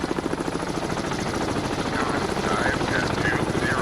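In a Cold War submarine warfare video game, a helicopter drones with a steady rapid rotor chop that stays loud and continuous, while someone talks faintly beneath it.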